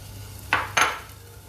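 Onions and garlic being stirred in an oiled pan give two sharp utensil scrapes against the metal, close and fairly quiet, over a low background hum.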